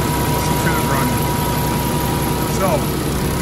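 A 2016 Kenworth T680 truck's PACCAR 485hp diesel, started stone cold, idles at a steady, fairly quiet rumble, with a faint short tone sweeping by near the start and again near the end.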